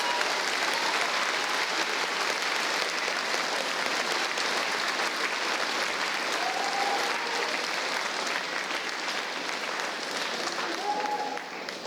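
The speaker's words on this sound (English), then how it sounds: "Let's give a big round of applause to not only our staff," Audience at a middle school 8th grade graduation ceremony applauding staff, parents and guardians: steady, dense clapping that holds at an even level for the whole stretch, easing slightly at the end.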